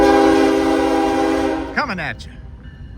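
Norfolk Southern freight train 179 sounds a loud, sustained multi-tone horn up close for nearly two seconds, then the pitch drops sharply as it passes, leaving rumbling rail noise while someone speaks briefly over it.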